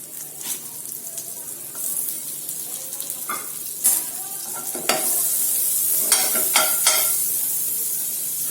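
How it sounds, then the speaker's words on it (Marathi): Butter sizzling in the same pan used for pasta vegetables, a steady bright hiss punctuated by several clinks and scrapes of a spatula or utensil against the pan, rising slightly in intensity partway through. "आता सेम पॅन मध्ये आपण आणखी थोडं बटर टाकून घेऊया."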